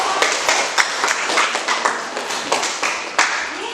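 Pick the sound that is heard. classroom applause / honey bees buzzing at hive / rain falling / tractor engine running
classroom applause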